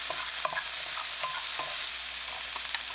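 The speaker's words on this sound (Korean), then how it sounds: "양파 넣고 1분 볶아주세요." Onion being stir-fried with potato and carrot in oil in a pan. A constant close sizzle runs alongside repeated light scrapes and clinks from stirring.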